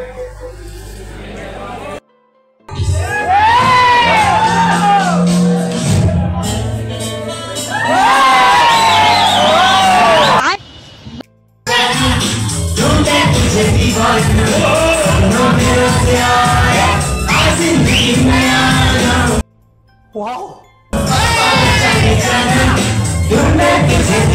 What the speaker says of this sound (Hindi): चलिए आरएस ग्रुप को एक बार जोरदार ताली बजाएंगे।